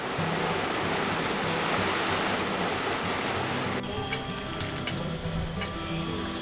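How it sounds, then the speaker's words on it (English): Steady rain falls in a boatyard, a dense, even hiss that holds loud and unbroken for the first few seconds, then thins into lighter pattering with scattered drips and some faint tonal background sounds. "We're meant to be painting, but it's raining instead."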